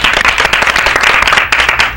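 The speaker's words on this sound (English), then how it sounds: "He claps for himself." A single man claps for himself on a panel talk stage, quick close claps in a rapid, slightly uneven run that stays loud and near throughout.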